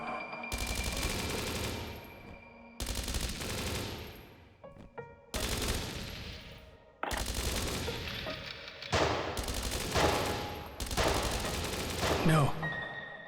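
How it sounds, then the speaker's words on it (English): Loud, sustained bursts of gunfire in an ambush firefight in the video game Dreams of Another, several long volleys of rapid shots separated by brief pauses, close and dense. "Return fire."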